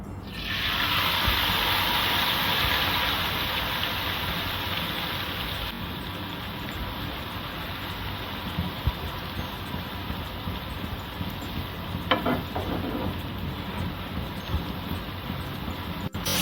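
Thin-sliced potatoes frying in hot oil on a high gas flame for jhuri alu bhaja, a dense steady hiss that starts loud and settles into a slightly quieter crackling sizzle, close up with no talk.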